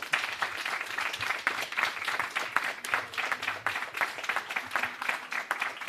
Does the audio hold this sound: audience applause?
yes